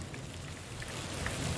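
Steady rain falls on a farm, a dense continuous hiss with occasional distinct drops, even and moderately loud with no voices.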